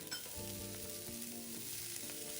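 Chinese sausage, shredded white radish and taro stir-fried together in a hot wok, giving a steady, close sizzle with scraping stirs and light clatter throughout and no voices.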